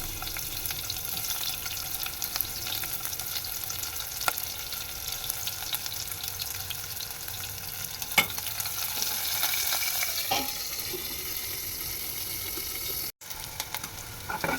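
Onion, curry leaves, garlic and dried chillies fry in a pan with a continuous close sizzle, broken by occasional spoon clicks and stirring scrapes, plus a brief dropout near the end.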